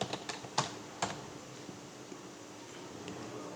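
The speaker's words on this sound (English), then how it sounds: "I will type up tutorial." Bursts of keystrokes on a computer keyboard, a quick cluster of clicks early on and then sparser, softer taps, close by over a faint steady room hum with no talking.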